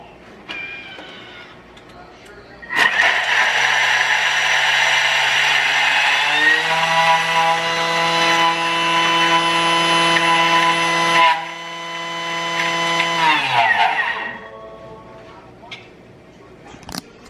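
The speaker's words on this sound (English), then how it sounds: "Now going to blend it up" A kitchen blender runs for about ten seconds, blending ingredients for homemade bread or lemon drizzle cake. Its loud steady whir shifts pitch as the speed changes, then winds down, with talk before and after.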